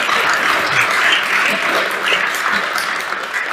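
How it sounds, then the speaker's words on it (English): A conference audience at a Christian annual conference claps for three guests after a panel conversation, steady dense applause filling the room at even volume, with no voices rising above it. "Can we give a round of applause to our guests?"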